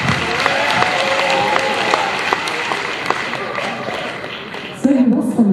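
Audience applause at an art competition award ceremony on stage, with steady clapping filling the room for about five seconds before a voice begins speaking at the end.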